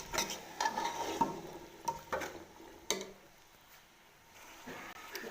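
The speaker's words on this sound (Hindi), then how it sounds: "ये आलू ये भी इसमें डाल देंगे हम। तो मैं अच्छी तरह से हिला लूँगी।" Potatoes stirred into vegetables frying for a sabzi pulao, with scraping spoon strokes and soft pan sounds coming in irregular bursts, then a quieter stretch near the end.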